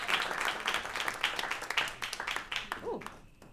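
Audience applause at a New York African film festival event, a dense wash of clapping that gradually thins and fades near the end, with a voice briefly rising over it.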